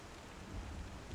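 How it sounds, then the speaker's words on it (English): Rain in the Star Citizen video game: a steady, dense hiss of falling rain with a low rumbling undertone, continuous and fairly faint throughout. "this damn rain"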